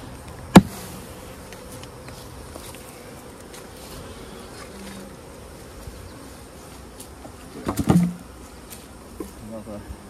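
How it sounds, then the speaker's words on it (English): Many honey bees buzz in a constant dense drone around a hive during an early-season inspection, with a couple of sharp knocks and brief handling noises nearby. "Even more bees in this one."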